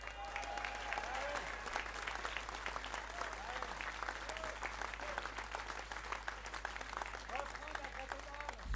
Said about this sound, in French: Je vous demande d'applaudir Frédéric Mazier,